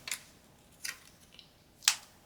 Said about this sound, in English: Now I'm going to get my scissors and I'm actually going to cut this